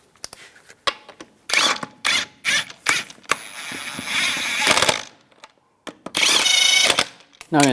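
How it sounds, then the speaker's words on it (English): Ratcheting and mechanical clicking in bursts while lug nuts are put on a wheel of a 2003–2005 Chevrolet Trailblazer, loud and close with pauses between runs and no talk. "Install the wheel. Put the lug nuts on."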